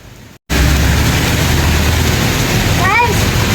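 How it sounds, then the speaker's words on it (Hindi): Heavy rain pours steadily and loudly after a brief gap at the start, a broad hiss that continues without a break, with children outdoors getting soaked in the downpour. "डैडी भीग जाएंगे, डैडी के पास रेनकोट नहीं है, और हमजा रेनकोट पहन के मज़ा ले रहा है पानी"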